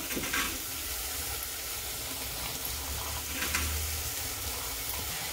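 Sprouted brown vaal beans tipped into a pan over a low gas flame give a steady, soft sizzle with faint stirring scrapes, alone and close.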